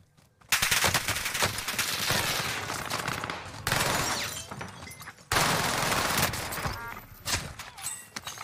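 Rapid bursts of automatic gunfire from a Fortnite match, with a loud opening volley that breaks off briefly and then resumes as dense, sustained shooting close in the mix.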